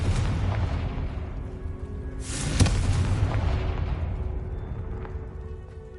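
A booming fire-spell blast from the Hogwarts Legacy video game, Confringo or Incendio, hits once with a sharp, loud burst near the middle and fades into a rumbling, crackling wash of magical combat.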